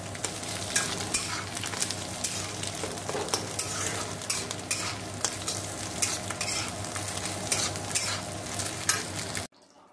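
Chow mein with fried potato and egg sizzles in hot oil in a pan while a utensil stirs and scrapes it steadily, a continuous close frying hiss with clinks, ending abruptly.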